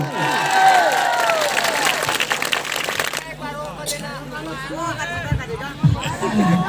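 A crowd at a tribal community event breaks into loud, sustained clapping that rolls on for several seconds, with a voice and some chatter mixed in over the applause.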